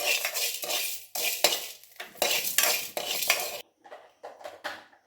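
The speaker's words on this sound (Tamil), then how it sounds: "இட்லி பொடிக்கு தேவையான கல் உப்பு அதையும் லேசாக ஒரு வறுத்துடணும்." Coarse rock salt for idli podi dry-roasting in a pan, stirred in quick gritty scraping bursts with clattering metal, then pausing into softer intermittent scrapes.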